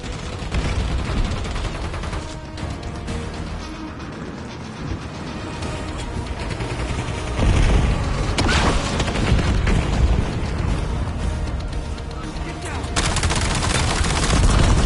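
Call of Duty Black Ops 7 campaign combat, with dense gunfire and grenade booms layered over a continuous loud game soundtrack and effects.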